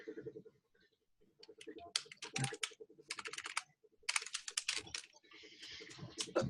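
Typing on a computer keyboard, with irregular bursts of close, crisp key clicks separated by brief pauses, under a low steady hum of background tones.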